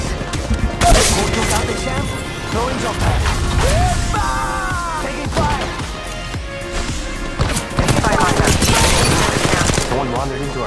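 Gunfire in the mobile battle royale Apex Legends Mobile during a ranked match: dense bursts of automatic weapon fire, loud and continuous, mixed with reload clicks, impacts and game voice callouts.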